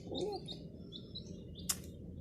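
Chicks give a few thin, high chirps, close and fairly faint, with a short brighter squeak near the end over a quiet, rumbling background.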